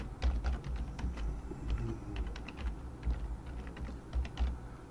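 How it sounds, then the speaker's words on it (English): Typing on a computer keyboard, a quick, irregular run of soft key taps close by and quiet, with no talk. "So I'm going to now type into the text box."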